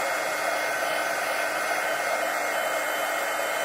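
A heat tool melting embossing powder blows continuously, a close, steady, loud whooshing hiss like a hair dryer with no pauses and no voices.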